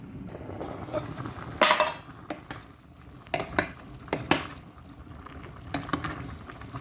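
A lid clatters onto a pot of simmering chicken soup, followed by scattered lighter clinks of metal and cookware over a soft background of bubbling.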